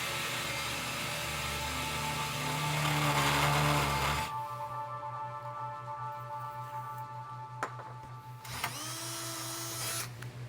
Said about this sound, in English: It's already ready to be drilled.